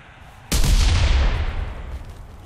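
Gunfire in the video game Cuisine Royale: a single sharp, loud shot cracks out, then a long booming echo rolls away and fades over about two seconds.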